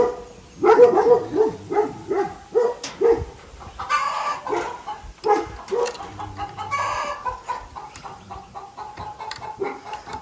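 Chickens cluck steadily and close by, a busy run of short calls with an occasional louder squawk rising over the flock.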